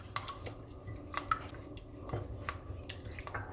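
Orange juice being mixed into cake batter for a coconut lemon loaf, soft, close wet squishing and light clinks of a utensil against the bowl in an irregular rhythm, quiet and without talk.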